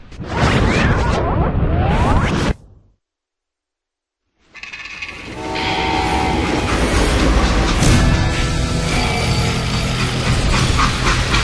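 A train in the video game Call of Juarez Gunslinger rumbles and clatters loudly, cuts to silence for a moment, then returns as a steady, dense mechanical roar with rattling wheels.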